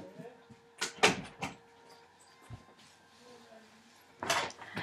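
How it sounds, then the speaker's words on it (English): A household door is closed indoors, giving a few sharp knocks and thuds close by, with a dog nearby and a voice around it. "Let me close my door."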